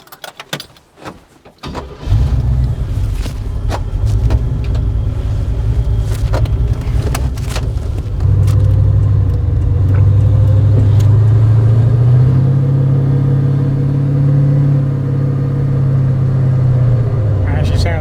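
A 1955 Chevy Bel Air engine starts with a rough crank, then settles into a steady, deep idle rumble that rises slightly partway through, heard from inside the car.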